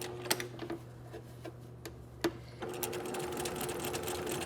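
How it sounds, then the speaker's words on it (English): Sewing machine stitching a garment neckline with a 1/4 inch seam allowance, starting with a few separate clicks and clunks, then running into a steady fast whirring stitch, close and clear. "we're going to be sewing this along our neckline with 1/4 inch seam allowance"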